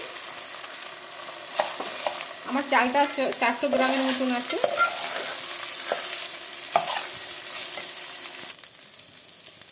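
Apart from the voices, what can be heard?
frying and stirring rice in pan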